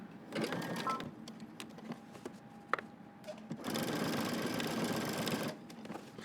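A sewing machine stitching a stretch stitch along a denim jeans hem, running in bursts of fast whirring, with a short pause and a sharp click between runs, close and alone.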